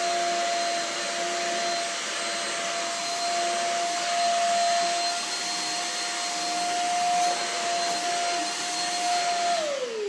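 Shark Rocket vacuum cleaner with a wide floor attachment running steadily and loudly, a constant high whine with motor hum, winding down at the very end.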